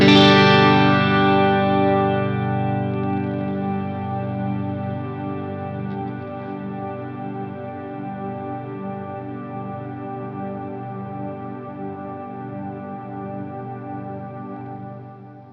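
Mad Professor Kosmos reverb pedal with its freeze function engaged: a guitar chord held as a sustained wash that slowly darkens and fades in volume over several seconds, with no one speaking.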